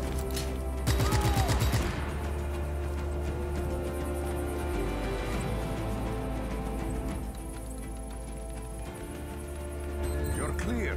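Rapid gunfire from the Just Cause 3 video game, a dense sustained barrage with a loud opening burst, mixed with game music and effects throughout.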